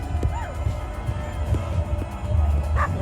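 A dog barks a few times at an outdoor summer solstice gathering at Stonehenge at sunset, the short yips rising over a steady low crowd murmur and wind rumble.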